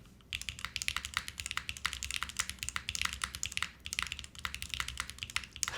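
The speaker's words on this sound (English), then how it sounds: "Ooh, this keyboard sounds delicious though." Rapid, clacky keystrokes on a mechanical keyboard with QMX stabilizers, steady typing with short pauses, close and crisp.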